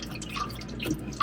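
Water dripping inside a Grand Design RV's plumbing as the supply is turned back on, with a few soft, close drips over a faint watery background.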